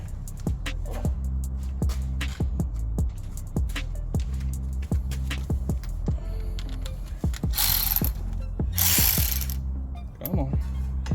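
A hand ratchet clicks in a steady rapid rhythm while loosening a Honda Element brake caliper bolt, close and clear, followed by a couple of brief scraping bursts near the end.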